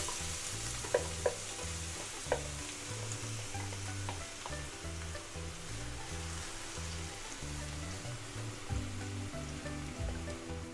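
Onions fry in melted ghee with a little oil, a steady close crackling sizzle throughout, with a few sharp stirring taps early on and a low hum underneath.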